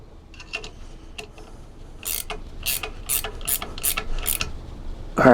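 A hand ratchet snugs down bolts on a 14 bolt axle during a locker install, giving a run of about seven sharp, close clicking strokes in quick rhythm with no talking.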